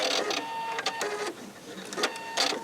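Pfaff sewing machine running a brief tie-off and then its thread cutter engaging, a series of short mechanical whirs and clicks close up, with no talking.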